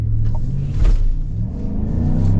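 A deep V8 engine in a 2025 pickup truck (Toyota Tundra 1794 or Chevrolet Silverado High Country) roars and revs up briefly, a loud, close rumble that swells and then settles back to a throaty idle.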